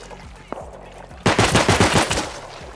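Rapid automatic turret gunfire in the survival video game Rust bursts in loud and close after a faint single pop, a dense run of shots that rattles on for over a second, with no talk over it.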